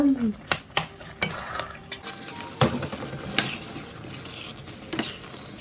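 A spoon scrapes and clanks against a metal pot while bacon-stuffed fried rice porridge is stirred, giving sharp, irregular knocks over a faint background hiss.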